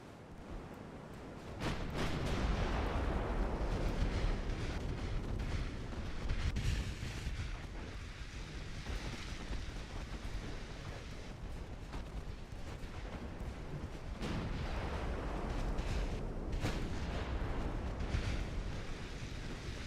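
Battleship and cruiser fleet gunfire in a naval video game, dense continuous rumbling barrages of heavy booms and crackling shots, loud and sustained with repeated surges, no talk.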